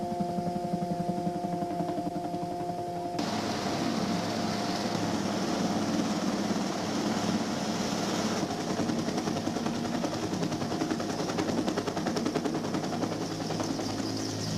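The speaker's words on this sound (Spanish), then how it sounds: "los helicópteros llegaban y partían transportando efectivos que necesitaban atención médica." Military helicopters arrive and depart near Puerto Argentino during the Falklands War, carrying wounded troops; a close, loud, steady rotor chop pulses rhythmically throughout with engine whine underneath.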